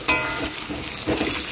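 Potato pieces fry in hot oil in a wok, giving a steady, close sizzle with soft scraping stirs and no talking.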